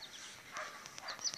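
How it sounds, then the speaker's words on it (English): Faint, distant dogs bark a few times in quick, uneven bursts across a rural Saskatchewan garden deck on a quiet day. "oh, can you hear those dogs?"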